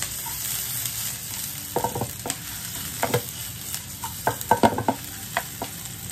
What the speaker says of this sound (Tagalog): Sibuyas. Bawang. Okay. Unahin natin mamula-mula.